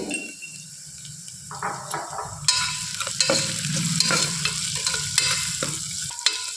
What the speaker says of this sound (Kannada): ಈರುಳ್ಳಿ ಒಂದು ಅರ್ಧದಷ್ಟು ಫ್ರೈ ಆದಮೇಲೆ 1/4 ಸ್ಪೂನ್ ಅರಿಶಿನ ಪುಡಿ ಹಾಕ್ಕೊಳ್ತಾ ಇದ್ದೀನಿ